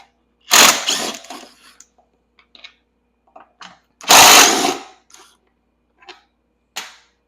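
A power tool spins a 10mm bolt off a golf cart frame in two short, loud, close bursts about three seconds apart. Faint clicks and handling knocks fall between them.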